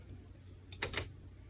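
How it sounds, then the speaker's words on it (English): Scissors cutting a small square from scrap ribbon material give two quick, quiet snips close together against a faint background hush. "I cut a square"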